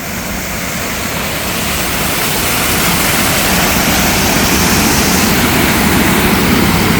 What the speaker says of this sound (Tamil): தண்ணி ஃபோர்ஸ் பார்த்தீங்களா உங்களுக்கு பயங்கரமாக போயிட்டுருக்குங்க தண்ணி ஃபோர்ஸு.